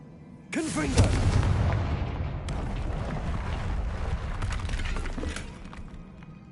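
Confringo blasting spell going off in Hogwarts Legacy: a loud burst of blast and crackling rumble that swells suddenly, then carries on as a sustained, dense roar with scattered crashes and debris-like clatter, fading slightly toward the end.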